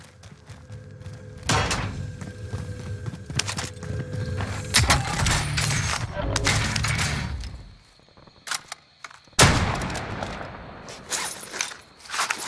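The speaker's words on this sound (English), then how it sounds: "Are you shooting at yourself?" Gunfire in Call of Duty: Modern Warfare, a few loud sharp bursts with echoing tails separated by quieter gaps, some close and heavy, no talking.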